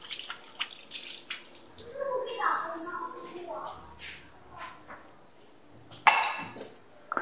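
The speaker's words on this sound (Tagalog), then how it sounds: "Siyempre magwawash-wash muna ako." Ingredients rinsed under running tap water in a sink before cooking, with soft splashing and a few glassy clinks, a louder burst of water near the end, and voices talking in between.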